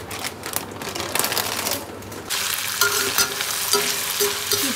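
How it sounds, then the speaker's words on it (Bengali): Paneer cubes fry in a pan, giving a steady, fairly loud sizzle broken by scraping, clattering stirs and utensil knocks, with no talking. "এই হচ্ছে পনির, এই কটা পনির ভেজে দিয়ে দিই।"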